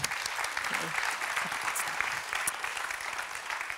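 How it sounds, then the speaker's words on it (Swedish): An audience at an internet conference session on AI gives a short round of applause, fairly quiet and even, with brief voice fragments poking through the clapping. "Så, applåd."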